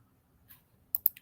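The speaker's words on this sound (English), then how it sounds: "I don't want y'all to see this name that I'm typing." A few quick, light keyboard clicks come close and faint over a quiet room: one soft tap, then a tight cluster of sharper keystrokes near the end.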